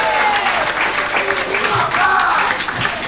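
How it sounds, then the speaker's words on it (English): A crowd applauds steadily and loudly, with scattered cheers and voices mixed into the clapping. "round of applause."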